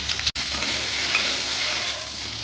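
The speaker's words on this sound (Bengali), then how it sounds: "পটলগুলো লাল লাল করে ভাজা হয়ে গেছে" Pieces of pointed gourd (potol) fry in white oil in a pan, giving a steady, close, crackling sizzle with a short break near the start.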